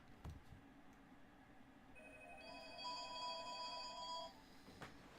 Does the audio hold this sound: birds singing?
no